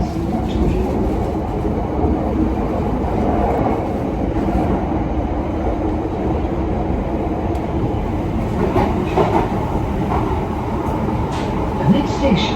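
A London Underground Piccadilly line tube train runs with a loud, continuous rumble and rattling, plus scattered clicks and squeaks of the carriage over the rails, heard from inside the car.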